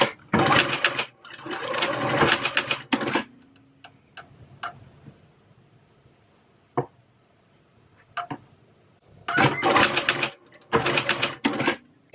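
A sewing machine stitching a hair tool bag runs in fast, loud rattling bursts, pausing between runs for quiet clicks and ticks before starting up again.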